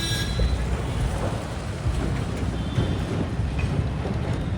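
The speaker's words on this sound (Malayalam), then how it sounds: "ട്രെയിൻ അങ്ങനെ കടന്നു പോയി." A train passes on a railway line in Tinsukia, Assam, and the rake includes old blue ICF coaches. The rumble is steady and broadband, with no clear gaps between the wagons.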